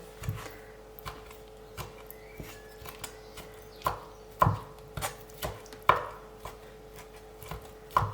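A knife chops through fresh young cheese mixed with herbs on a board, producing irregular, sharp close taps that cluster more densely midway, with no voices.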